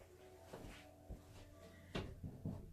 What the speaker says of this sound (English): I've got to close my door again.